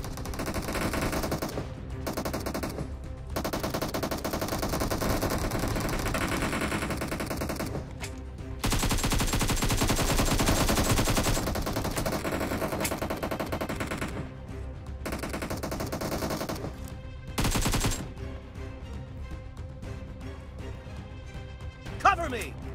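Machine gun fire from a mobile shooter video game rattles in long sustained bursts, loud and near, with short pauses between volleys and someone talking over it.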